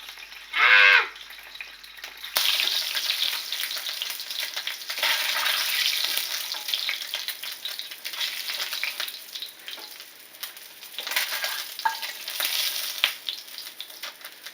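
Ingredients browning in hot oil in a pan for Filipino pancit lomi chicken noodle soup, sizzling and spitting steadily and fairly loud, with a brief sharper burst near the start.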